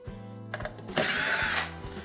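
A cordless power driver whirs briefly in short pulses and then in one longer run, loosening 1/4 inch screws that hold the keypad on a GE cooktop, close and clear with no talk.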